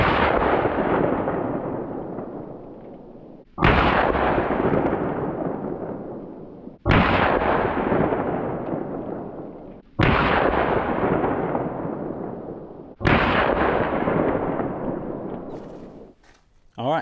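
Five sharp .22 LR gunshots from CCI Uppercut jacketed hollow-point rounds fired into a test block, evenly spaced about three seconds apart, each loud close crack trailing off into a long decaying echo.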